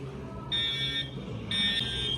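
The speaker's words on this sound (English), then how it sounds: "what's up with this fire alarm?" A fire alarm at Universal Studios Hollywood sounds in two loud electronic buzzing bursts of about half a second each, separated by a short gap, over an outdoor crowd hum.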